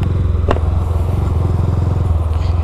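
Honda Fan 160 motorcycle fitted with a Dore exhaust, ridden at night: a steady, loud engine drone with a pulsing exhaust note that carries throughout, plus one brief sharp click near the start.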